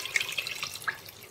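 Water pours from a tap into a medium pot to cover chicken gizzards, a brief, close splashing trickle with small drips, quiet and without speech.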